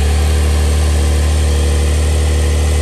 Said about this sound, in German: Ich drehe mal den Schlüssel. Also startet direkt